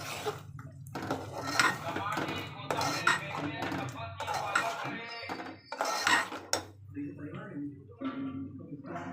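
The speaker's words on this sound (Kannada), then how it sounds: "ಇವಾಗ ನಾನು ಟೊಮೆಟೊ ಹಣ್ಣು ಉಳ್ಳಾಗಡ್ಡಿ ಪೇಸ್ಟ್ನ ಇದಕ್ಕೆ ಹಾಕ್ತೀನಿ." Tomato and onion paste going into a pan for chicken masala: metal pots and utensils clank and scrape repeatedly at close range, with stirring and scraping sounds in between.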